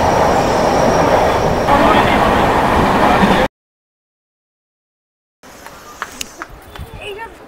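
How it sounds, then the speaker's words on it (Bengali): A train pulls into Kharagpur Junction station, its steady rolling rumble loud and close for a few seconds, then a gap of silence, then quieter platform ambience with scattered clanks and clicks. "আমাদের ট্রেন এসে ঢুকলো খড়গপুর জংশন স্টেশন"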